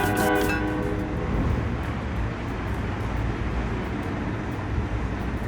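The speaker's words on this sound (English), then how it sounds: "Another regional train." A regional train passes on the New York to Trenton Northeast Corridor line in Train Sim World 3, with a steady loud rumble of wheels and motors throughout and a brief horn-like tone at the start.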